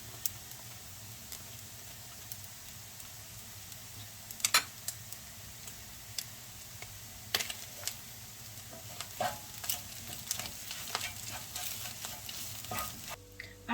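Pepper and tomato paste sizzling in a hot pan while being stirred for a stuffed bread dish from Aydın, a steady frying hiss with scattered spoon scrapes and clinks, close and moderately quiet.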